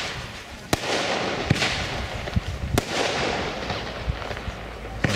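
Fireworks at a Franconian pyrotechnics demonstration go off in a rapid series of sharp cracks and bangs over a continuous crackling, fizzing background, several distinct loud reports spread across the few seconds.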